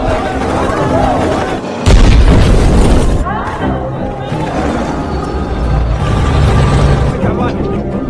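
A dramatized war scene in which Iraqi soldiers entering Kuwait fire on buildings. Loud, dense booms and gunfire run throughout, with a sharp blast near the two-second mark and voices mixed into the chaos.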